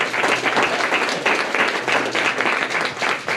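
A breakfast crowd at a Rowan Democrats event cheers and applauds as a college president is called up to speak, producing a dense, steady wash of clapping with cheers that stays loud and continuous throughout.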